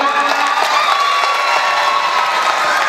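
A college hall audience at an Onam celebration claps and cheers loudly, a dense continuous roar of hands and voices filling the room.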